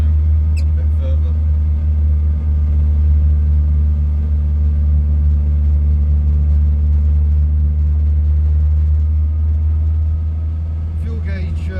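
Steady low engine drone and rumble from a car called Project Fox being driven with the choke partly off, loud and continuous throughout with no talk, easing slightly at the end.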